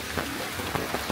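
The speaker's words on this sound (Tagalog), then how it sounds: "umuulan pa rin, oh" Steady rain falls on a campsite on Samal Island during a storm, a dense continuous patter with a few slightly louder drops standing out, no voices.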